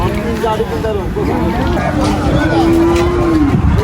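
A cow moos in a long drawn-out call amid a busy crowd at a village cattle market in Pakundia, Bangladesh, with steady background chatter and market bustle throughout.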